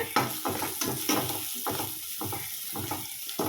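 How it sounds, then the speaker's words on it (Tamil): Onions sauté in a pan for a beetroot stir-fry, giving a steady close sizzle with rhythmic stirring scrapes throughout. "வெங்காயம் வதங்கட்டும், அதுக்கப்புறம் நம்ம பீட்ரூட் சேர்க்கலாம்."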